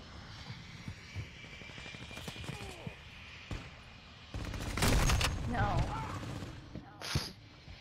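Video game gunfire crackles in scattered sharp bursts and short rattling volleys, some close and loud, others distant, mixed with game effects and a speaking voice.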